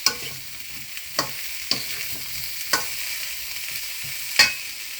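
Chicken chilli with green chillies stir-fries in a pan, a low hiss punctuated by several spaced utensil scrapes and clacks, nearby, with no voices.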